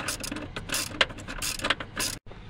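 A ratchet wrench with a 14 mm socket and long extension loosening a bolt on a Jeep Grand Cherokee SRT battery mount, quick rhythmic clicking strokes repeated close up and loud, then stopping abruptly.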